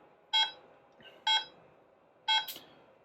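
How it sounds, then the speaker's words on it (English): A Remy Quad 27-watt class 4 therapy laser sounds its countdown with three evenly spaced electronic beeps about a second apart, clear and close over a faint background hum, no voices. "Each beep counts down. It lets you know that it is in operation, and so you and your patient will know that the laser is working"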